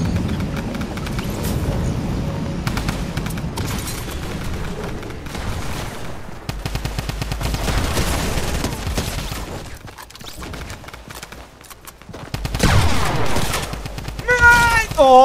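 Rapid bursts of gunfire in the video game Fortnite, crackling in dense volleys and scattered shots, with a player talking over the game sounds.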